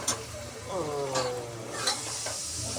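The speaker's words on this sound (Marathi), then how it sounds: "आता मी मसाला टाकते." Spices sizzling as they are stirred into hot ghee for dal khichdi, a steady close frying hiss with a spoon scraping the pan and light clinks.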